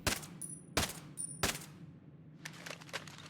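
A P90 fires in the video game Ghost Recon Breakpoint, three sharp separate bursts followed by a quicker rattle of shots, each cracking loud against a quiet background hum.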